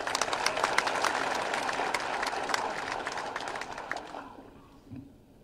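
Audience applause at a political speech, a dense round of clapping that holds strong and then thins out and fades near the end.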